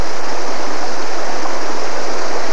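Water in Canusa Creek rushes and gurgles steadily throughout, a loud, broadband flowing roar with no voices over it.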